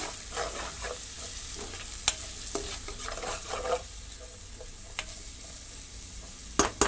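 Small prawns fry and are stirred in a pan, a soft steady sizzle with scattered scraping strokes and a few sharp clicks of the spoon against the pan.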